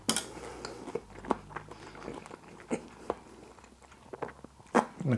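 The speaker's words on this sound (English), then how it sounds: "the crunch of that baby sweet corn goes so well with that squid" Close, crisp chewing of crunchy baby sweet corn with spicy stir-fried whole squid, irregular bites and crunches with quiet pauses between them.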